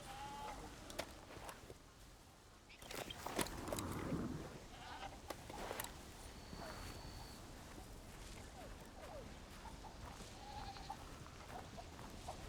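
Goats bleat repeatedly on a farm in the video game Indiana Jones and the Great Circle, several calls near and far over steady ambient game sound, with footsteps and rustling mixed in.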